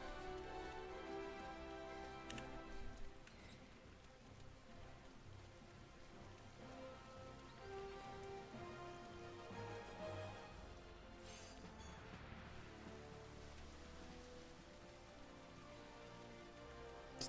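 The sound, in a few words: rain falling in the video game Final Fantasy XIV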